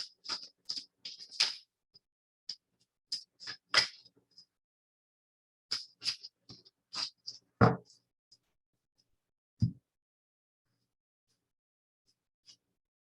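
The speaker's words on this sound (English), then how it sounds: "So hold on, let me shuffle that again." Tarot and oracle cards are shuffled close by in quiet, sharp riffles and slaps that come in irregular bursts, with a couple of louder thumps of the deck and brief pauses between.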